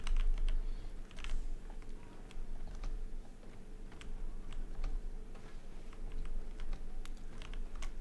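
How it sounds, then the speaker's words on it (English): Rapid clicking of a computer keyboard and mouse during an online Star Wars: Battlefront 2 match, a steady, close stream of small ticking taps over a low background hum. "This old 37-year-old man swinging this mouse, tapping that keyboard."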